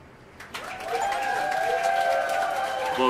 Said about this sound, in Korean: 뭐왜 박수 쳐 갑자기?